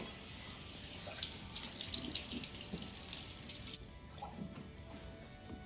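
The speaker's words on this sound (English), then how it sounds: "I'm just rinsing them with regular water in the sink" Tap water runs steadily into a sink as plastic Cricut cutting mats are rinsed, a continuous splashing hiss with small shifts as the flow strikes the mats, near and alone with no talk.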